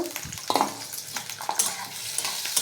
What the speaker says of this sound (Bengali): কড়াতে তেল দিয়েছি, দিয়ে এবার আলুগুলো দিয়ে দেব।